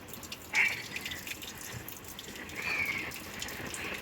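Water runs from a tap as rice is washed in a sink, a faint, steady trickle with a couple of brief splashy drips.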